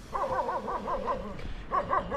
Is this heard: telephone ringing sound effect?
no